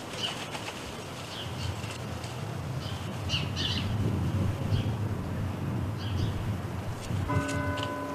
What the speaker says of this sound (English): She flies back to the feeder.